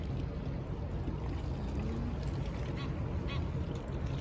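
Ducks quack at a boat dock on the river in Frankfurt am Main, faint and partly masked by steady broadband water and outdoor noise throughout.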